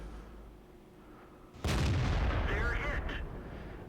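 In World of Tanks, a tank takes a hit from an enemy StuG: a sudden loud boom after quiet rumble, followed by a sustained crackling, ringing impact rattle that slowly fades.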